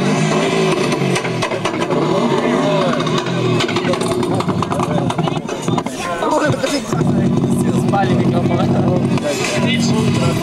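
A tuned rally car at a 2004 tuning meet in Košice is revved hard in repeated loud bursts, the engine note swelling and dropping, with crowd voices talking over it.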